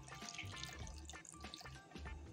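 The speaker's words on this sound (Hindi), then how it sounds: "अब इसमें करीब 2 कप के हिसाब से पानी डाल देते हैं।" Water poured into a pan of chopped raw green mango for mango panna, a faint, steady trickling and splashing that runs continuously, with no talking.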